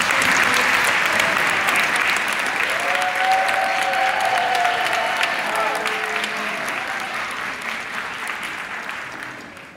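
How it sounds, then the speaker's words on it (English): Audience applause at a school district community meeting, loud sustained clapping from a crowd that gradually thins and fades, with a voice briefly audible beneath it. "Nice round of applause for him."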